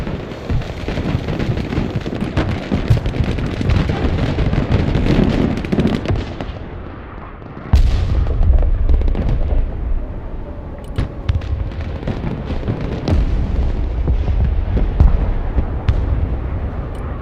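Bombing in the video game Broken Arrow brings a long barrage of loud explosions and rumbling blasts, dense at first, then a heavy impact followed by scattered booms and crackling.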